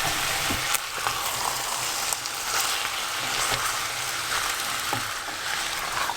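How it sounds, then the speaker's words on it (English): Chickpeas hitting hot masala for a vegan chana bhuna with red and green peppers, giving a steady, loud sizzle and frying crackle with occasional stirring clicks throughout. "then we're going to add in the chickpeas"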